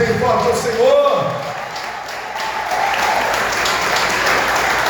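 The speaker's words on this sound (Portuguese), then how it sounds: "Vamos aplaudir bem forte ao Senhor." Congregation applauding loudly during a sermon in a church, a sustained broadband roar of clapping that swells after a moment of speech, with voices heard at the start.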